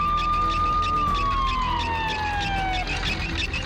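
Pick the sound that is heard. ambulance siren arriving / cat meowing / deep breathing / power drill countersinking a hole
ambulance siren arriving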